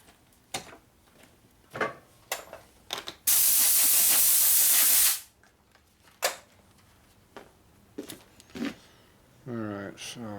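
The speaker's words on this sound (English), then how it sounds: "I'll squirt a little bit of brake clean on this, try to clean this up" Brake cleaner hisses out of an aerosol can in one steady burst of about two seconds onto a motorcycle engine part from a 1977 Sportster Ironhead rebuild. Clicks and handling noises come before and after it, and a voice speaks near the end.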